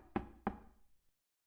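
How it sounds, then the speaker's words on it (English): Two quick knocks on a wooden door, close and fairly quiet, each a dull thud with a short resonant tail, followed by silence. "Tok, you're awoken by a knocking on the door."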